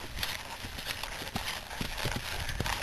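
Horse hooves clip-clop during a riding lesson, a run of soft, evenly spaced thuds under a steady wash of outdoor noise.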